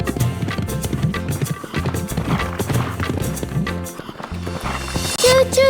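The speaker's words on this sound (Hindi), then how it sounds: "टप टप टप टप टप टप टप टप टप टप टप घोड़ा भागे" Galloping horse hooves clip-clop in a steady, quick rhythm over bouncy music in a children's animal-sounds rhyme, loud and close.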